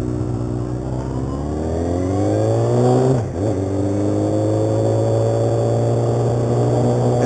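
A vehicle engine revs up as a ride begins, a loud, close drone that climbs steadily in pitch. It dips briefly at a gear change, then settles into a steady hum.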